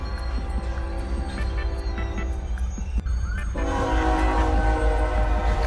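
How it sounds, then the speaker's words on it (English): A train rumbles through a crossing where vehicles wait, its horn sounding loud and sustained over the steady clatter of the passing cars. "Two officers waiting for a train to pass through."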